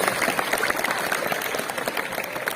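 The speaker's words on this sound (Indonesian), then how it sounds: "Tepuk tangan buat sekolah kita SMA Negeri 3 Kota Bekasi" A school assembly crowd at SMA Negeri 3 Kota Bekasi claps together in a steady, dense burst of applause, fairly close and continuous throughout.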